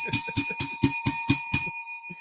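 A bell rung in a quick run of about seven evenly spaced strikes, each with a bright sustained ring, loud and close, tapering into a short fade.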